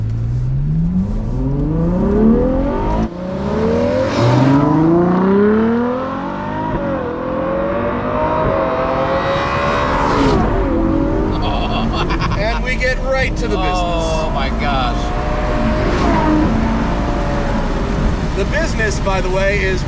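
A 2021 Ferrari 812 GTS front-mounted V12, set to race mode with manual shifting, screams as it accelerates hard, its revs climbing in repeated rising sweeps between gear changes while a person talks over it.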